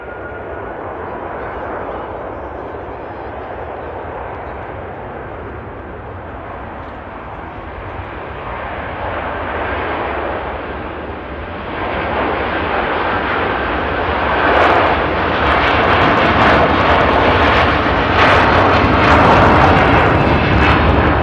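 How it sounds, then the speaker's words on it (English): Aircraft engines roaring at Manchester Airport, a loud broad rumble that swells steadily over twenty seconds as the plane powers up, with a hissing jet tone growing toward the end. "You can just see that aircraft shaking"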